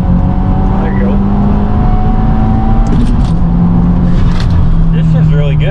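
A 2022 Subaru WRX on a tuning drive accelerates hard, its engine droning loud and close from inside the cabin with pitch steps at gear changes, while someone talks over it.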